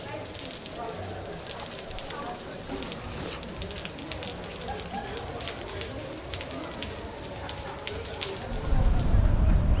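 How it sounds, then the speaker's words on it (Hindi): Steady rain falling in a hill-station town in Maharashtra, a dense pattering hiss on surfaces throughout, with a louder low rumble near the end. "ये बारिश पीछा नहीं छोड़ रही है,"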